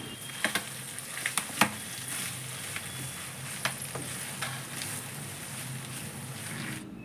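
Goat tripe (boti) cooking in a covered pan gives a steady, close frying sizzle with a few sharp pops and crackles early on, fading slightly toward the end.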